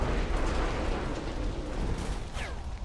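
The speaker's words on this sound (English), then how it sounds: "Oh no. They're shooting at me." Enemy gunfire in Saints Row 4, a steady, loud barrage of shots and blasts filling the whole moment without pause.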